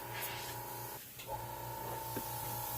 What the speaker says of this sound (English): You'll see me spraying on paper long before I ever spray my product.